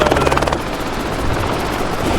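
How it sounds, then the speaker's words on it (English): A helicopter over the Grand Canyon in Arizona, loud and close, its rotor chopping in a rapid rhythmic thump at first before blending into a steady roaring drone. "I've never been on a helicopter before, have you?"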